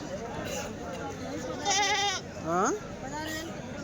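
Goats bleat at the Kadiri goat market, with two wavering cries close by over a constant hubbub of people talking.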